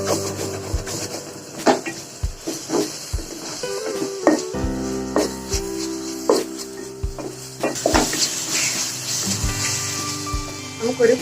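Coriander powder and chili sautéing in a pan for butter chicken, with sizzling under rhythmic spoon scrapes and taps against the pan, close and fairly loud, while a voice speaks.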